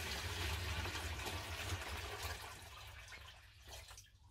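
Five liters of tap water poured into a container, a steady broadband splash and rush that runs loud and continuous for about two seconds before thinning into trickles and drips.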